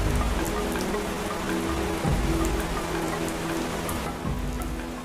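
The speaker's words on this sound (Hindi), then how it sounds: "ये बरसात की शुरुआत है।" Steady rain falls on surfaces in the Amazon, a dense continuous patter with a low rumble underneath and occasional heavier drops, no voices.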